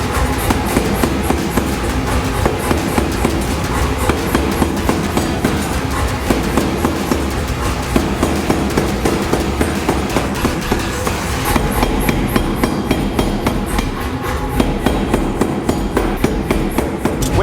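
Loud, rapid hammer blows pound hot steel during a forge weld of a shamshir scimitar billet, a dense unbroken clanging rhythm with ringing metal and no speech.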